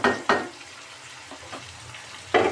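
Winter vegetables with prawns and spices frying in a pan, stirred in a few scraping strokes over a steady, soft sizzle, close and fairly quiet.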